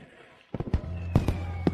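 Fireworks as a sound effect: a quiet start, then a quick series of sharp cracks and pops, several close together, with a short tonal hum between bursts.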